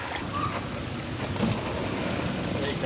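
Water pours steadily through a newly built backyard pondless waterfall, a constant broadband rushing and splashing heard close up, with some wind-like noise over the microphone.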